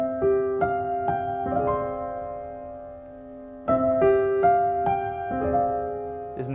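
Solo piano plays a slow, sad chord progression, sounding two phrases of sustained chords with moving upper notes and a brief pause between them.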